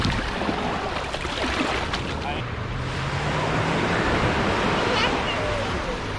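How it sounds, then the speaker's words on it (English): Ocean surf at a beach in Miami rushes in a continuous loud wash mixed with wind buffeting the microphone, with people talking over it. "So this is the beach, people."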